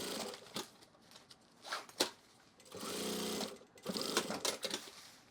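A sewing machine runs in several short bursts and one longer steady run, stitching the bottom piece of a drop liner duffle bag, close and fairly loud with pauses between bursts and no talking.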